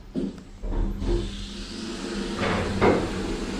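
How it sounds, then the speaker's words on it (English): A steady mechanical hum and hiss of a hydraulic lift runs throughout, with a few clunks and surges in intensity, no voices present. "You can definitely hear the hydraulic machinery."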